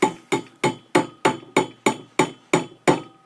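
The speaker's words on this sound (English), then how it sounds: "all I need is a hammer and a nail" A hammer strikes a nail into a wine bottle cork in ten evenly spaced, sharp, close blows, each with a quick ringing decay, and no talking.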